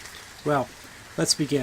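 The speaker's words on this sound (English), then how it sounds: "I suspect you can probably hear the rain falling in the background" Rain falls outside on a chilly evening, a steady, soft hiss of drops running under the whole stretch while a single voice speaks briefly in the foreground.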